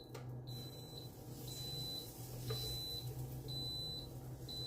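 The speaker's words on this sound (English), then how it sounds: "it just beeps, so that means it's ready" Three or four short, high electronic beeps repeat at steady intervals over a constant low appliance hum, with a clatter at the start.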